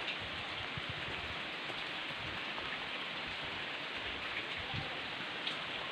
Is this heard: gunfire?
no